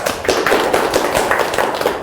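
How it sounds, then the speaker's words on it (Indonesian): A group of people applauds loudly and close by, giving a dense, continuous patter of claps that lasts the whole moment with no talking. "Tepuk tangan buat kawan-kawan sekalian."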